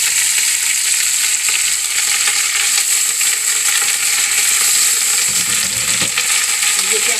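Red celery-like vegetable stems fry in hot oil, giving a loud, dense, continuous sizzle with a bright hiss that holds steady throughout, close up and without any talking.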